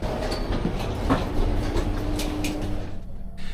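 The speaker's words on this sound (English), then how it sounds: "the bus drove around and around" An airport transfer bus drives along with a steady, low engine and road rumble from inside, a few faint rattles and clacks rising above it before the noise drops away near the end.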